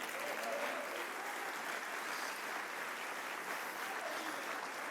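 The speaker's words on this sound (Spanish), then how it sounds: "Denle un aplauso al Señor por eso." A church congregation applauds during a Spanish-language sermon, a steady, dense wash of clapping that holds at an even level throughout without pause.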